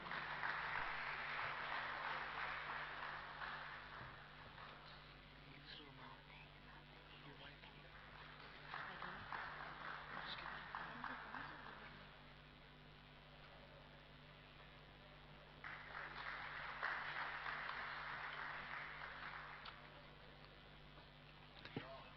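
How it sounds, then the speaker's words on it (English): Faint applause from a conference session audience swells up in several separate bursts, each lasting a few seconds, with quieter room noise and murmuring between them. "Can we have a round of applause, everyone?"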